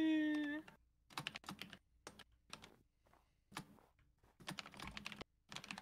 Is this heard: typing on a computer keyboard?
yes